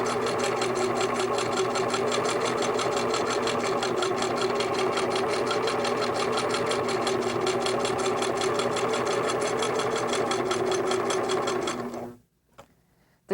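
Sewing machine stitching an appliqué piece onto quilt fabric, a fast, even mechanical chatter of needle strokes running steadily and close for about twelve seconds before stopping abruptly.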